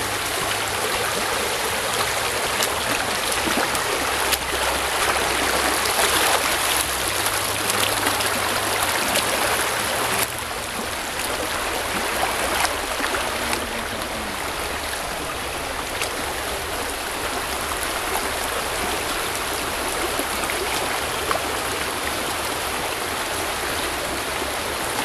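Water rushes steadily over rocks in a stream, a constant close wash of flowing sound with no pauses.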